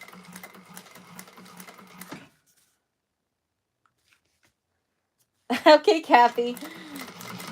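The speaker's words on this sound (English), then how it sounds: "just baste down the sides to keep everything together" A sewing machine basting the side seams of a bag exterior with a 1/8 inch seam allowance. It runs in a steady, rapid mechanical patter for about two seconds, stops, and then a voice speaks.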